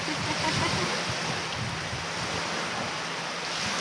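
Ocean waves wash up onto a beach near Perth, Western Australia, a steady close-range hiss of surf and foam with some wind buffeting the microphone.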